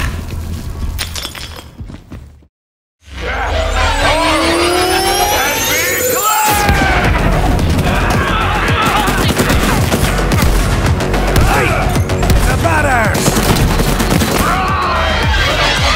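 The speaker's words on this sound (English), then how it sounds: "here's what the Mouthpiece speaker sounds like in-game with the final mix and everything going on" A Borderlands 3 boss battle against the Mouthpiece plays in its final in-game mix: dense, loud gunfire, shattering impacts and booming effects fill the scene, broken by a brief silent gap and a heavy crash, with shouted voices buried in the din.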